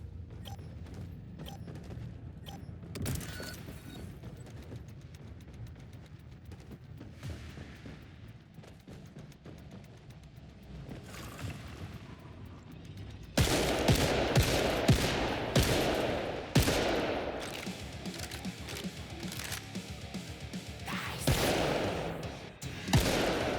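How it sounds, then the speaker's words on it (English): Automatic turret fire in the shooter game Killing Floor 3: sustained rapid mechanical shots and clattering, growing louder and denser partway through, with no speech. "Turret's up."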